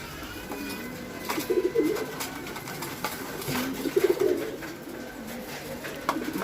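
A pigeon coos in two soft, rolling phrases, close and clear, with a short pause between them and light background noise.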